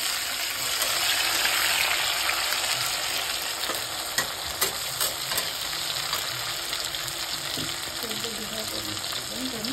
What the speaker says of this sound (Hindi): अब ये प्याज हमारे थोड़ा सा ब्राउन हो गया, अब इसमें डाल देंगे टमाटर।